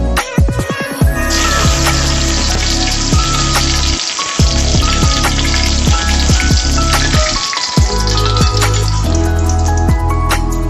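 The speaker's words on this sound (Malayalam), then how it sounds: "എണ്ണ ചൂടായി കഴിയുമ്പോൾ കുറച്ച് കറിവേപ്പില അങ്ങ്" Curry leaves sizzle in hot oil as samosa masala is started for vegetable samosas: a loud, dense, continuous crackle of spitting oil that runs the whole time with only brief dips, over faint steady tones.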